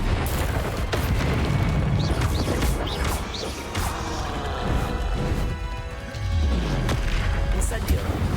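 Confringo fire spells in Hogwarts Legacy burst as repeated loud explosive booms and crashes amid dense combat clamor, with low rumbles and debris clatter. A voice speaks over parts of it.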